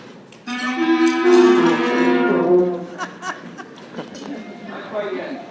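Beginner school band at a winter concert sounding one held note together, a wavering brassy chord lasting about two seconds, followed by audience laughter and murmuring.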